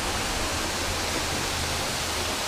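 A waterfall in a cold setting rushes in a steady, dense, hissing roar that fills the whole clip evenly and drowns out any other sound, with no voices.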